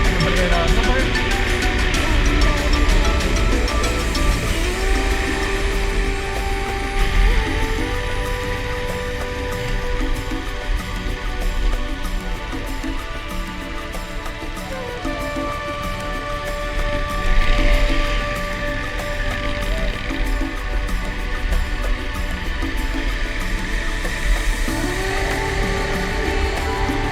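An off-road vehicle on a mountain trail near Ribes de Freser and Tregurà holds a steady engine drone with repeated rising revs as it accelerates and shifts, continuing throughout at moderate loudness.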